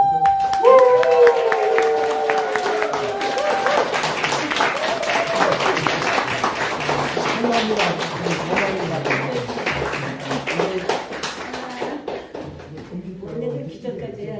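Audience applause welcoming a speaker at a conference, a steady wash of clapping from a crowd that carries on for several seconds and slowly thins out, with a voice talking over it at the start.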